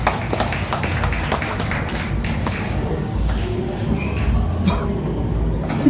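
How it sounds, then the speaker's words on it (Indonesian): A crowd at an evening official Kesamaptaan event in Mempawah applauds, with dense, continuous clapping that holds steady throughout and has a few louder individual claps standing out. "Sekali lagi tepuk tangan untuk kita semua."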